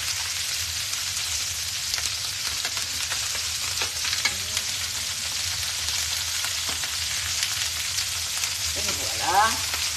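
Duck leg skin fries in a pan with a steady, close, crackling sizzle and occasional sharper pops, and a voice speaks briefly near the end.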